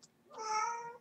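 A pet cat gives a single clear, close meow lasting about half a second, rising and falling in pitch, alone in a quiet room.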